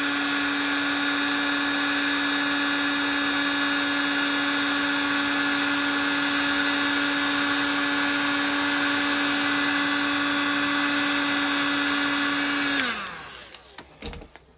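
A heat gun blows a steady, loud whine with a strong tonal hum as it shrinks a heat-shrink sleeve onto old lead-sheathed electrical cable, running continuously before cutting off and winding down near the end.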